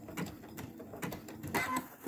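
Brother Quattro 2 6700D sewing machine stitching slowly through thick fabric, a quiet run of close mechanical needle thumps and whirs in a brief uneven rhythm.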